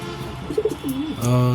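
A pigeon from a caged pair gives a few low, rolling coos close by, followed by a brief steady hum at the end.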